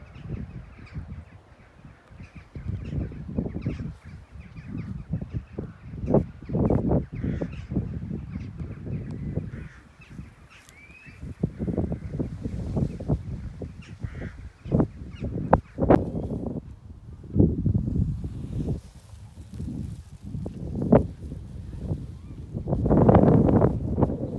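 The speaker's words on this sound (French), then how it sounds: "Ça en fait des oiseaux, hein." A large flock of birds calls overhead, with honking geese and harsh cawing overlapping continuously in loud, irregular bursts that come and go over about twenty-four seconds, with no one talking.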